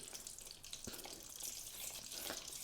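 Plain water pours and splashes quietly into a bowl of batter, a faint trickling and gurgling stream with soft bubbly sounds.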